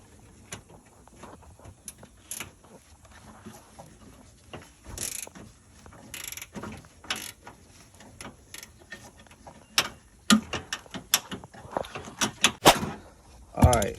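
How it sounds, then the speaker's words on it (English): Screws being backed out to remove a vehicle's side mirror, heard as scattered metallic clicks and ratcheting snaps, growing busier and louder toward the end. "taking the screws out for the mirror"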